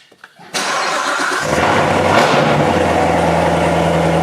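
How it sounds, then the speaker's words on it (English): Chevrolet Corvette cold start heard from inside the cabin: a short starter crank catches into a loud engine flare, then settles into a steady, rumbling high idle with a deep low hum throughout. "we're gonna go for a Corvette cold start"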